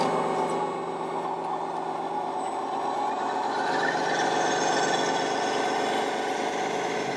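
A radio-controlled construction truck drives downhill at a hobby truck and machinery meet, its motor humming steadily with a fairly loud, even drone and no talk.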